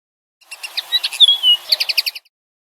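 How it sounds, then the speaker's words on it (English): A small songbird sings one clear, rapid phrase of bright twittering notes and trills, lasting under two seconds, close and alone against silence. "It was really only a little linnet singing outside his window"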